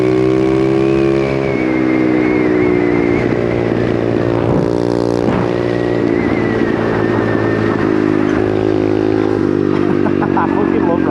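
Small pit bike motorcycle ridden off-road, its engine holding a steady buzzing drone with small shifts in pitch and rattly clatter, close and loud, while a rider speaks over it.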